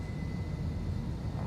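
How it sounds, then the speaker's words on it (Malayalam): Airplane engines roaring steadily inside the cabin during a Bangkok to Singapore takeoff roll, a dense, continuous low rumble with a faint high whine and no talking. "കണ്ടോ വിമാനം സൗണ്ടെല്ലാം മാറി."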